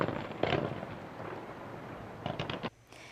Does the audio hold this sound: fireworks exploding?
yes